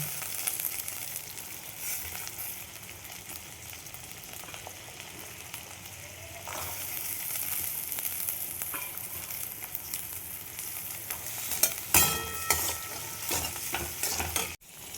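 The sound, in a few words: peas added and stir-fried in pan for chowmein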